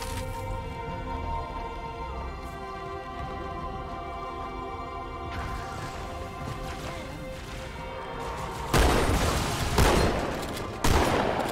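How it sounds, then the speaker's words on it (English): Shotgun blasts in Halo 2, the alien-war shooter game: two loud, sharp booming shots come near the end, the second a couple of seconds after the first, over a steady bed of tonal game music and ambience. "I'm gonna give the shotgun one more try"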